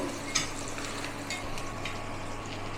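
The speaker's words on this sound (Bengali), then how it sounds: "এখানে রসুনটা দিয়ে দেবো, রসুনটা একটু ভেজে নেব।" Garlic frying in mustard oil in a wok gives a steady, close sizzle and crackle, even and unbroken across the moment with a faint stir near the start.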